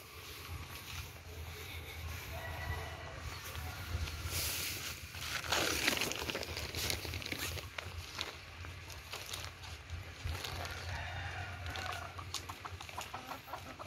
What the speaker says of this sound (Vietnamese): ổng nuôi gà, cung cấp gà thịt